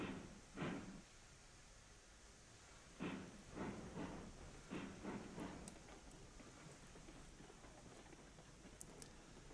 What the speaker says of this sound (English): As we get a bit of rain in here.